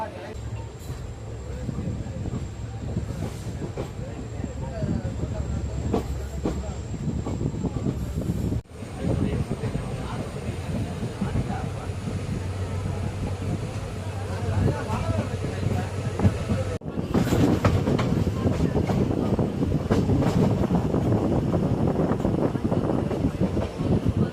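A moving passenger train from Rameswaram to Palani rumbles and rattles continuously from inside an unreserved carriage, with wind noise and faint voices in the background.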